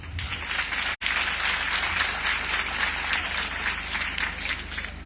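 A crowd in Sierra Leone at a gathering claps steadily and loudly, with a brief dropout near the start, the sustained clapping otherwise continuing to the end over a low hum.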